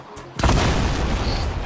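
A heavy rocket launcher explosion in Fortnite, a sudden loud boom that hits hard and then holds a dense rumbling roar for over a second.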